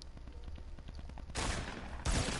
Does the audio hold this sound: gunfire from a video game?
yes